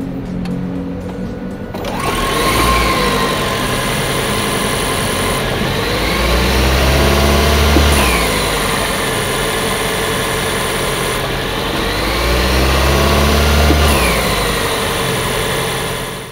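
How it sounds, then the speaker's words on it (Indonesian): A Toyota Kijang Innova Zenix hybrid starts after about two seconds and settles into a steady, smooth idle with slight swells in engine note, recorded close and fairly loud with no talking. "Foot on the brake, yuk kita start up dulu."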